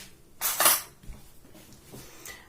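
A steamer mold is set down in a kitchen with a single clattering knock and a brief ringing metallic clink, followed by quieter faint handling noises.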